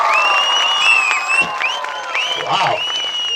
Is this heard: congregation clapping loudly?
yes